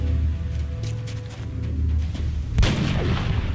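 A sharp booming shot cracks out partway through in XCOM: Enemy Unknown, loud and close, after a stretch of low rumbling background with faint clicks.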